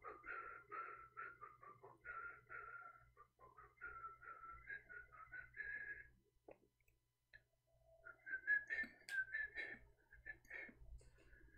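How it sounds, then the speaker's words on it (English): A man whistles a melody quietly indoors in a shop, a run of warbling tonal phrases, then a pause and a higher, more breathy burst of whistling near the end. "Oh, I forgot, I am live on air, I'm whistling."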